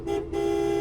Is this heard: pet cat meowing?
no